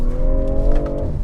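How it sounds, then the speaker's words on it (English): A BMW M340i xDrive pulling hard out of a corner on a winding road, a loud, close, steady engine drone with rising harmonic tones that level off and fade near the end, with no talk. "There the XDrive really kicks in and propels the M340i"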